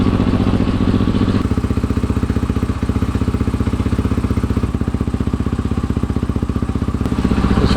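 A supermoto motorcycle fitted with a 2018 FMF Factory 4.1 RCT exhaust idles up close, a loud, rapid, evenly pulsing exhaust beat that holds steady throughout with no revving.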